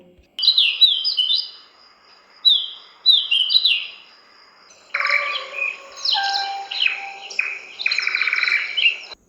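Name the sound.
various birds singing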